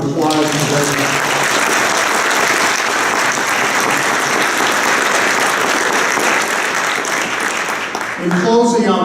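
A museum audience at the Everson Museum of Art breaks into sustained, loud applause, dense and even for several seconds before fading, with a voice briefly returning at the very end.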